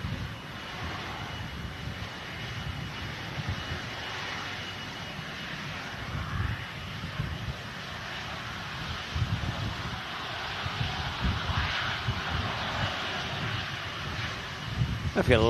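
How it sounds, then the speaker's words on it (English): A passenger airliner arriving at Manchester airport in stormy, windy conditions, its engine roar steady and rumbling throughout, buffeted by wind noise on the microphone, with a voice talking over it. "This aircraft coming back to Manchester"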